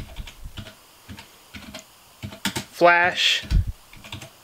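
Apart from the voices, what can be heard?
typing a fastboot command on a computer keyboard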